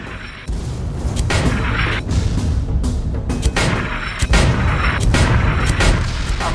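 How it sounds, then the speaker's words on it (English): Heavy booming cannon fire from a mortar aboard an airship in the game Guns of Icarus, a dense barrage of loud thumping blasts and crackling bursts layered with rumbling battle noise throughout. "Get on the mortar and finish the piece of junk off."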